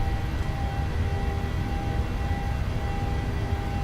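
Boeing 737 engines spooled to takeoff power in a flight simulator, a steady loud roaring drone with a constant tonal whine, unbroken and without talk.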